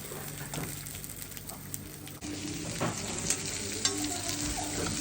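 Sucuk sausage frying in its own fat with no added oil, giving a steady close sizzle and crackle with light stirring noises throughout.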